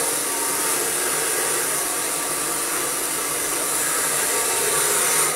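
A hair dryer blows steadily while hair is rough-dried before a smooth straight blow-dry: a loud, constant close-up whoosh with no pauses or voices.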